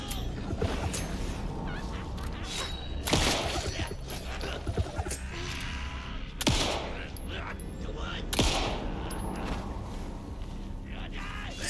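Gunshots in Alan Wake II, a few sharp loud reports spaced several seconds apart among ambient game sounds, with a voice talking between the shots.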